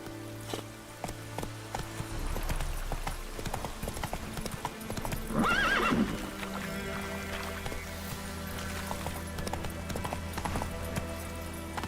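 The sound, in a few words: horse Roach galloping in video game The Witcher 3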